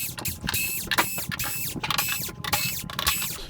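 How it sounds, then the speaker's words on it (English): Screws being turned out of the plastic back panel of a VIZIO D39HN-E0 television with a driver, a repeated whirring, ratcheting mechanical sound in several close, rhythmic bursts with no talking. "let's get these screws out"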